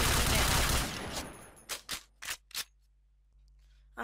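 Kriss Super V submachine gun in the shooter game Point Blank firing short bursts: a dense opening volley followed by four separate quick bursts spaced apart, close and sharp.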